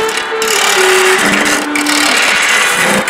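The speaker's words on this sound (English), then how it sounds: "I'm going to use just a regular square carbide to get in here and cut this thing out." A square carbide tool cuts into wood spinning on a lathe, a continuous loud scraping whir with shifting tonal hum, steady throughout with no talking.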